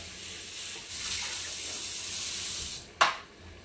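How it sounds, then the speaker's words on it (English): Soapy water from a blender runs into a kitchen sink with a steady splashing pour, then a brief louder gush near the end before it trails off, close and alone. "I'm going to empty this out in the sink. I'm going to quickly rinse it out so you guys get an idea."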